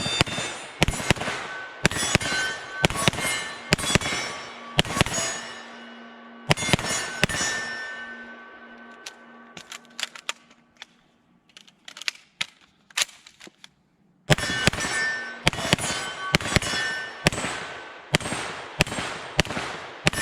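An H&K SP5 pistol fires a rapid string of loud, close gunshots in a steady rhythm, pauses with a few scattered clinks and lighter pops, then resumes another quick run of shots.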